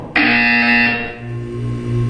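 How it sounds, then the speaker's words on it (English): Loud electronic buzzer in the Portal 2 test chamber: a single harsh, sustained tone that starts abruptly, holds steadily and fades slightly over about two seconds, heard alone. "When you hear the buzzer, look down at the floor."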